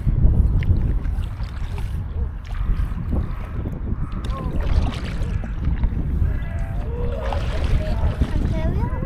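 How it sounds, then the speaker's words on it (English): Kayak paddling on a river, with soft splashes and strokes under steady wind buffeting the microphone as several people chat and laugh throughout. "So we're paddling now."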